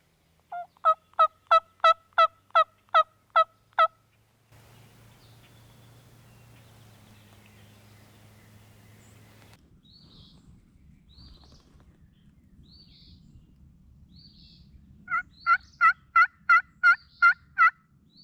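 Wild turkey gobblers gobbling in two rapid, rhythmic bursts on public hunting land in Kentucky, one at the start and one at the end, with a quiet stretch of faint background sound between.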